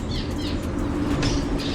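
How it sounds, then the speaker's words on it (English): Birds chirp at Guntersville Lake, bright short tweets and calls repeating over a steady low rumble of outdoor background noise, with no voices. "Birds everywhere."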